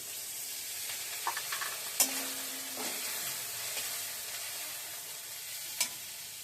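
Ground cumin, coriander and chili powders with a splash of water sizzling in a hot pan for chicken curry, a steady close hiss broken by occasional clinks of a stirring spoon.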